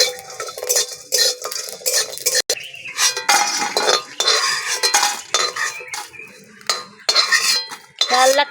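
Whole spices, including rose petals and shahi jeera, are stirred and dry-fried in a kadai for vegetarian navratan biryani: metal spatula scrapes and clinks against the pan in irregular bursts, loud and close, with no talking.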